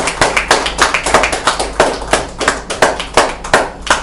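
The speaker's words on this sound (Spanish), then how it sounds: "Aplaude, si quieres aplaudir, aplaude con toda tu fuerza." A church congregation claps together in a fast, steady rhythm, loud and close, with sharp repeated hand claps filling the whole stretch and no one talking.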